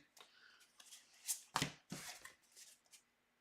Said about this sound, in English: we're going to shuffle back in up to 2 cards